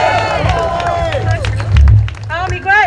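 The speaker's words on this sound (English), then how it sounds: "Let's get a round of applause for Holly Bird." A crowd at an outdoor protest march against the Line 3 pipeline breaks into applause, with scattered claps under loud cheering and raised voices that swell near the end.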